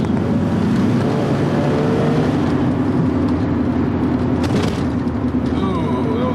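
An automatic Mazda RX-7 FD3S rotary engine hums steadily from inside the cabin while driving, with road and wind noise throughout.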